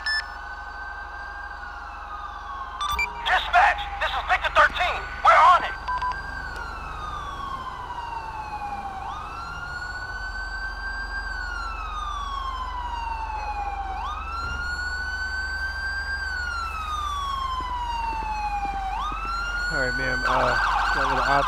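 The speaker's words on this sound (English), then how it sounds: "the ambulance just pulled up on scene" Ambulance siren in the GTA V LSPDFR police mod, wailing up and down in long slow sweeps for the whole stretch, steady and fairly loud, with a brief burst of clatter and radio-like noise early on.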